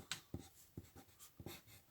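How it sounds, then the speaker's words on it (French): Pen writing on paper during a maths lesson, a few soft, quick scratching strokes in short bursts with brief pauses between them, close and quiet with no talk. "Alors je vais l'écrire sur mon papier."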